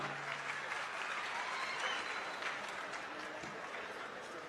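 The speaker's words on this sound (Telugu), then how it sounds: "గట్టిగా చప్పట్లతో అభినందనలు తెలియజేద్దాం." A large audience at a farmers' event breaks into sustained, dense applause that stays steady and fairly distant throughout, with no talk over it.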